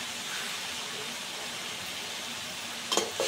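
A constant close hiss of sizzling oil fills the pan as chopped jute greens, cooked with shrimp and jackfruit seeds, are added, ending in a few brief clicks of a utensil.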